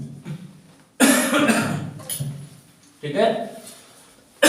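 Coughing bursts from a man who breaks off a recorded lesson, loud and close in a few harsh fits separated by short pauses, with some speech between them.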